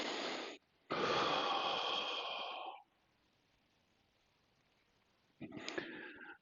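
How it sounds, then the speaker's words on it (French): Deep, slow breaths drawn in and let out during a walking meditation, two long airy exhales close to the microphone followed by a shorter breath after a quiet pause. "nous allons peut-être prendre 2 ou 3 profondes respirations"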